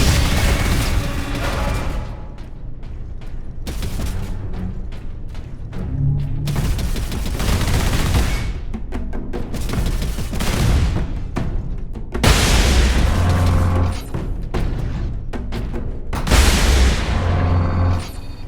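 Sentry gun fire and explosions in Warhammer 40K: Space Marine: loud bursts of gunfire and heavy booming blasts repeat throughout, with a few sharp impacts standing out over a dense, continuous battle din.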